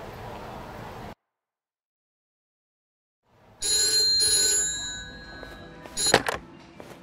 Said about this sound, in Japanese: 俺宛に電話がかかってきた。